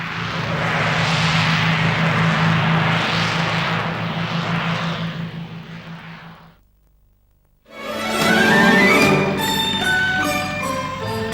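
Lancastrian endurance testbed fitted with Ghost jet engines, roaring loud as it passes low overhead, then fading, followed after a brief lull by a different busy mechanical passage.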